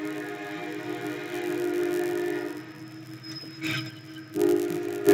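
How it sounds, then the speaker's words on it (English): A train rumbles past with a sustained metallic tone and squealing wheels, moderately loud and steady, swelling near the end, with no talk over it. "there are a lot of trains going by today"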